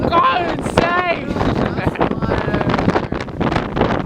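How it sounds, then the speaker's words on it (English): Strong wind gusts in a severe summer storm buffet the microphone with loud, continuous roaring turbulence, while a voice speaks excitedly over the noise. "that just tells you right there that we're getting some strong wind gusts"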